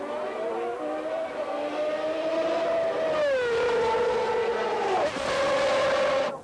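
1991 McLaren Formula One race cars roar past on track, their high engine notes rising and then dropping sharply as each one sweeps by loud and close, the second pass following soon after the first.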